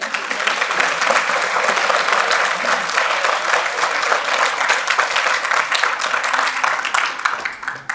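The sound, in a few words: applause from the audience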